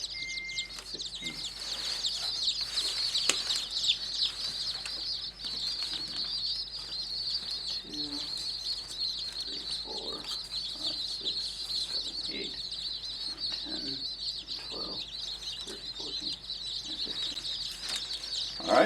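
Day-old mail order chicks peep steadily in a high, continuous chorus of chirps, with occasional fluttering and rustling in the box throughout, and no talking.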